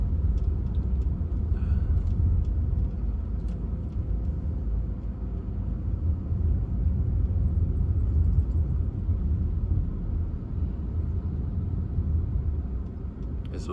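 Cars creep slowly past a spot on a driving-test route in Sachkhere, Georgia, giving a steady low rumble of engines and tyres that stays level and fairly close throughout, with no talk.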